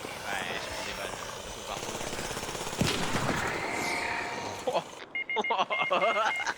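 Gunfire hitting the player in the shooter game ARC Raiders. Loud, dense rattling bursts pile up with a sharp heavy impact midway, then choppier broken volleys near the end, with a voice mixed in.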